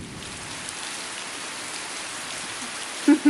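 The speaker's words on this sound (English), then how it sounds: "It's rain." Steady rain falls through a stormy night during a cyclone in Kerala, a constant broadband hiss of drops on surfaces holding even from start to end, with a couple of brief louder knocks near the close.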